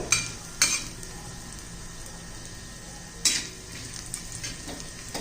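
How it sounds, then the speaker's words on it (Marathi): A spoonful of cumin roasting in a pan for soybean chutney, stirred with a utensil: a soft steady dry sizzle runs throughout, broken by a few sharp scraping clinks of the spoon against the pan. "जिरं घालायचंय ते पण चांगलं परतून घ्यायचंय"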